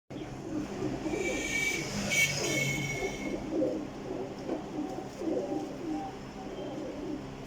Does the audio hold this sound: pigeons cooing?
yes